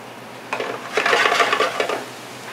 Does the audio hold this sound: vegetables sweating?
yes